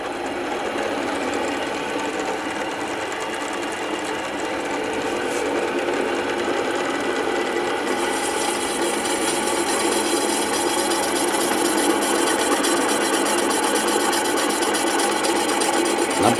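A resurfacing machine cuts the deck face of a motorcycle engine cylinder block, its cutter grinding steadily with a dense rasping hiss that grows slightly louder as the handle lowers it onto the block.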